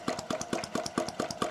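A self-built model hot-air engine, its first home construction, runs with a steady rapid mechanical chuffing, regular pulses about four or five per second, close and fairly loud with no talk.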